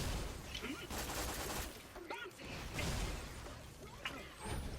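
Gunfire from turrets in the shooter Borderlands: The Pre-Sequel, with rapid bursts and fusillades crackling fairly quietly across the stretch, mixed with mechanical whooshes and other game effects.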